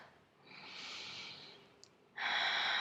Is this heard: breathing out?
yes